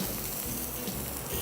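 Scallops sear in butter in a hot pan with a steady, close crackling sizzle that runs evenly through the whole short stretch.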